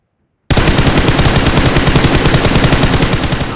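Rapid automatic gunfire from a shooting video game bursts in loud and close after a brief silence, a fast continuous rattle of shots sustained to the end with no talk.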